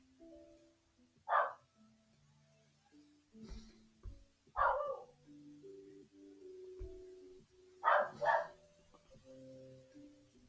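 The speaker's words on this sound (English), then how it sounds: "My dog is barking outside." A dog barks outdoors in a few separate, fairly distant bursts, with quiet gaps and low indoor hum between them.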